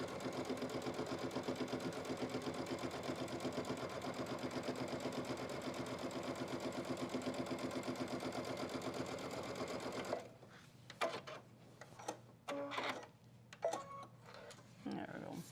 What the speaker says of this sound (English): what we're doing is stitching the leather onto the bottom of this bag